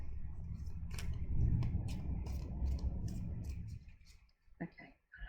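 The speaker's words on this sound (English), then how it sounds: "Now I shuffle all my decks this way." A tarot card deck is shuffled by hand, giving soft riffling and brushing with sharp card snaps at intervals, close and fairly quiet, followed by a few scattered taps.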